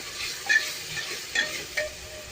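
Whole dried red chillies fry in a pan of masala for mutton do pyaza. The soft hiss is faint and close, with a few brief louder scraping bursts from stirring.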